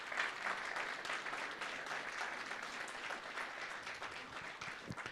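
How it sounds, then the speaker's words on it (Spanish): A church congregation at a special service applauds with steady, dense clapping. The ovation is even and sustained from start to finish, with no voices rising above it. "Fuertes aplausos."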